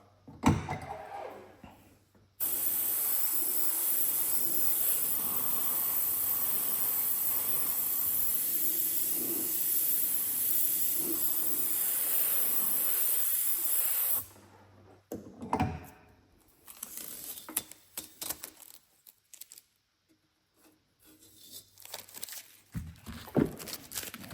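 Spray gun painting a Harley-Davidson motorcycle tank with lowrider panel graphics, a loud steady hiss of spray running continuously for about twelve seconds, followed by scattered handling noises and bumps.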